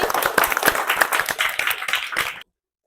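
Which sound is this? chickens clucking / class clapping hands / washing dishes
class clapping hands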